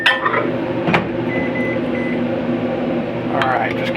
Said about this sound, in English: just came out of the microwave